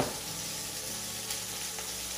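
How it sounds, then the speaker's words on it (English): Pork searing in a hot pan, a loud, steady, close sizzle that stays constant throughout with no talking. "we're gonna basically sear it on both sides"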